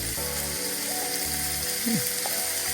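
Chicken pieces go into a very hot pan and hiss against the metal, heard close alongside clicking, ratchet-like mechanical noises and a brief squeaky scrape, with no talk.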